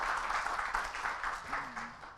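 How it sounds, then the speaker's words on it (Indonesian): A faculty audience at a university orientation event claps together, a soft, fairly distant wash of steady applause with faint rhythmic pulses and a brief voice tone near the end. "Tepuk tangan dulu untuk kita semuanya biar lebih semangat."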